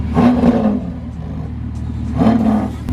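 A Lamborghini SVJ with a center exit exhaust revs twice at a car meet, two loud, close blips of throaty engine roar separated by a lower, steady idle.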